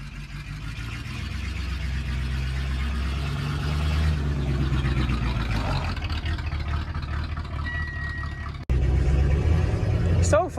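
A Chevy square body truck engine running with its muffler and catalytic converter removed, a loud, raw, steady rumble held close for several seconds with a sharp cut near the end, while someone talks over it.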